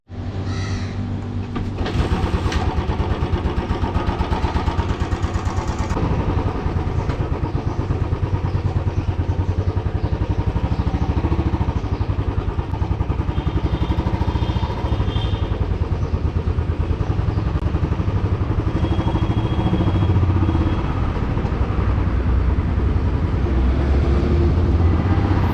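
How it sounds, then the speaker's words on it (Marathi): A motorcycle starts up and pulls away for a solo road ride out of Mumbai toward Kolad, its engine a loud, steady, continuous roar up close, with some clatter and passing traffic mixed in. "सो लगेच बाईक काढूया आणि निघूया."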